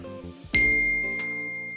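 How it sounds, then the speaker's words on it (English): A bright notification bell ding rings out once, sharp and clear, over a soft musical backing, its tone ringing on and slowly fading. "Don't forget to hit that notification bell"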